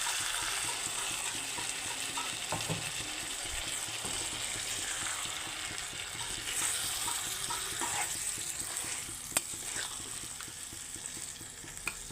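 A small splash of water goes into spice masala frying in a pan for broiler chicken curry, raising a loud, continuous hissing sizzle with a few sharp clinks near the end.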